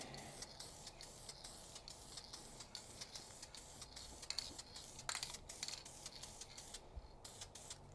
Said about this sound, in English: You're like spraying and releasing and spraying and releasing and spraying and releasing to get a nice like even coat